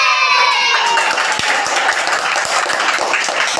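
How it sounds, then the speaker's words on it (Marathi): Audience applause for Rahul, a young quiz contestant who answered 100 questions, a dense, steady wash of many hands clapping that carries loud and even through the whole stretch, with a brief high tone fading out at the start. "परत एकदा त्याच्यासाठी टाळ्या होऊन जाऊ देत"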